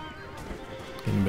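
A horse whinnies briefly over a busy video game battle soundscape during horse combat, with a loud low neigh near the end.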